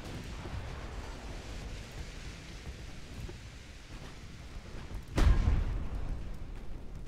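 A torpedo explosion in the naval warship game Ultimate Admiral: Dreadnoughts, a deep sudden boom rolling out over a constant low rumble of sea and battle noise partway through.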